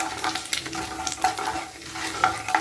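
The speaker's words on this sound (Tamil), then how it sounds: "கடுகு போட்டு பொரிய ஆரம்பிச்சுட்டு இது நல்லா பொரியும்போதே நம்ம காஞ்ச மிளகாய் போட்டணும்." Mustard seeds spluttering in hot oil for gooseberry rice, close crackling and popping in quick irregular bursts over a soft sizzle, brief sharp pops standing out, with no talk.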